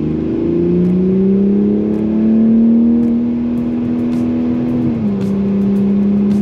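A 2020 Toyota Supra with an automatic transmission accelerates while holding its gear, the engine drone climbing steadily in pitch from inside the cabin and then dipping slightly near the end, loud and continuous with no talk.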